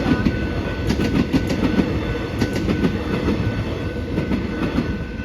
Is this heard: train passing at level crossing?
yes